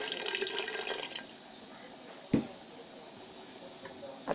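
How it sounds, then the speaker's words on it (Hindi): Water splashes into a pot for about a second, then quiet background with a single clunk and faint drips. "मैं इसमें थोड़ा सा पानी डाल देती हूँ ताकि मेरे आलू गल जाएं"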